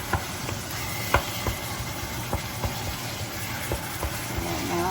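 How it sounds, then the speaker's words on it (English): Ground beef for taco meat browning in a pan, a soft continuous sizzle with faint scattered taps and scrapes from stirring. "And now I'm just browning off the beef."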